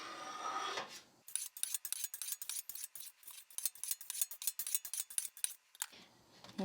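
A knife cutting cheese curds into a 1-inch grid for Gouda, heard as a rapid series of soft, close slicing ticks and scrapes, bracketed by brief louder handling noise at the start and end.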